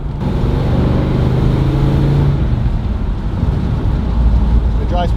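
A 1968 Chevrolet Camaro SS drives past, close and loud. Its engine drone is steady at first and then shifts to a rougher, rumbling tone as it moves along.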